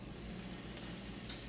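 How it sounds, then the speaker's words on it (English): Butter melting in a pan while cooking Jamaican-style steamed red snapper, a faint, steady low sizzle over a brief moment, quiet and without talking. "get the butter all melting, right? So the butter is melting there"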